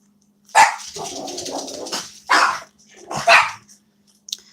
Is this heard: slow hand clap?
no